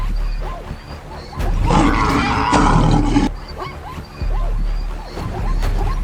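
A lion in the African savanna lets out a loud, rough roar that lasts about two seconds, then a second burst follows, set against a steady low rumble of wildlife-documentary ambience.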